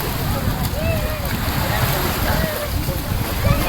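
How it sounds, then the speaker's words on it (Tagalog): Strong wind buffeting the microphone in an outdoor coastal spot, a continuous loud roar and rumble with the faint sound of water and distant voices underneath. "Lakas ng hangin dito mga guys"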